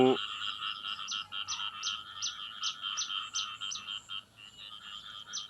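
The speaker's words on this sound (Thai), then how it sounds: "นี่ครับเสียงกบเสียงเขียดห้องแล้วครับ" Frogs croak in rhythmic rapid pulses during the rainy rice-planting season in a rural Thai village, a loud close chorus repeating steadily throughout.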